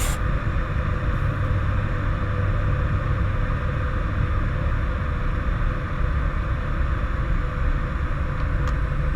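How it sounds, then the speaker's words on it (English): Steady broadband rush of air, like wind streaming into the open nose gear well of an ATR 72-600 turboprop airliner on approach, heard from the cockpit. A constant loud hiss with low rumble continues unbroken for the whole stretch, with no talk. "you can hear the air rushing into the well of the nose gear"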